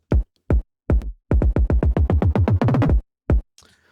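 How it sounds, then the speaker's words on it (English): A hand-programmed drum sequence built in Serato Studio for a Jersey club track: sharp, punchy kick-like hits, first sparse, then a rapid stuttering run of evenly spaced beats, then a few final hits, loud and without any voice. "I kind of just made my own little manual, kind of wild little drum sequence here."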